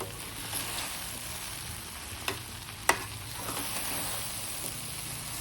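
Sabudana khichdi being stirred in a pan on a low gas flame, a quiet soft sizzle with gentle scraping and a couple of sharp spoon clicks against the pan, close and faint, no voices.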